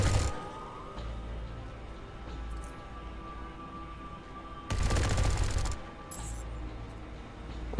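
Heavy-weapon gunfire in the video game Underrail, with a sustained loud burst of rapid fire over a background of continuous game ambience and a low hum, plus shorter bursts before and after.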